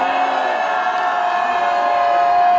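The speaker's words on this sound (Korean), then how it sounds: "함성 3초간 실시." A crowd shouts and cheers for about three seconds at a press conference outside a Seoul high school, a loud sustained roar with no clear individual words.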